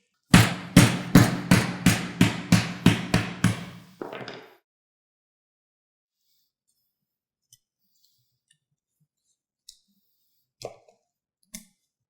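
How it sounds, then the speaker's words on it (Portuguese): A hammer strikes a cleaver about nine times in a quick steady rhythm, driving it through a fish's spine; the blows are loud and close, followed by a rattle, then silence with a few faint scattered knocks. "Vou utilizar o martelo para fazer esse corte."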